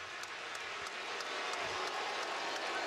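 Basketball arena crowd in a 2011 Thunder vs Grizzlies playoff game reacting to a foul with a steady roar of crowd noise and scattered applause, sustained and fairly loud throughout.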